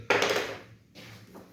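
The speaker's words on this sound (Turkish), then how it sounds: "tık sesi gelecek" A sharp mechanical click from an airsoft gun mechanism after a firing pin spring change, followed by a short rattling clatter, then a second softer clack close by, with no one speaking.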